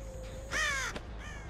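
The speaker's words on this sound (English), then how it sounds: "Even the crows are scared of us." Crows caw in a video game, a short burst of harsh calls rising loud near the middle over a low game hum, with a fainter caw following near the end.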